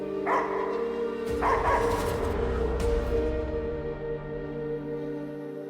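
Dog barking in the video game Slitterhead, a few short yaps and whimpers over a steady droning game soundtrack, close and fairly loud.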